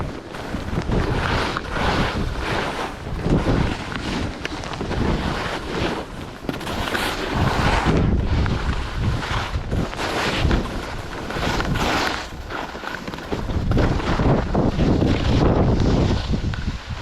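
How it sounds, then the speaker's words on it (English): Strong wind blows outdoors, buffeting the microphone in a loud, continuous roar that swells and eases for the whole stretch, with no talk. "Little wind blowing in here."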